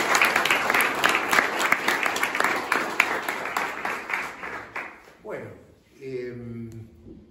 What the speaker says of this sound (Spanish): un aplauso para Alan y su equipo